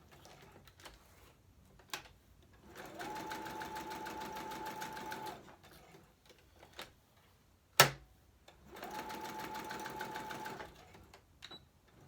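A sewing machine runs in two steady bursts of a few seconds each, a fast buzzing hum at moderate level, separated by quiet pauses with scattered clicks and one sharp knock.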